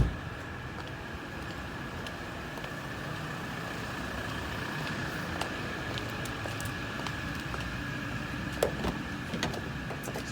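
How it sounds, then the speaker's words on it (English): Steady mechanical whirring at close range from the power windows of a 2017 Toyota Corolla Ascent, with a continuous hum and a few faint clicks and knocks. "So as I mentioned, power windows throughout."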